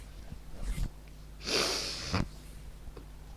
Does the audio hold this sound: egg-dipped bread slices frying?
no